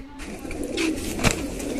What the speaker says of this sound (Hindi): फुल सारे कबूतरों का लॉट है